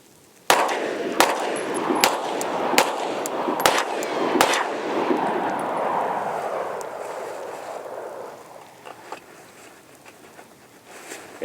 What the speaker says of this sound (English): I just want you to shoot 2-round strings.